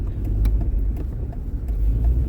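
A car setting off on a snowy winter road, a steady low engine rumble with faint tyre noise, close and continuous without talk.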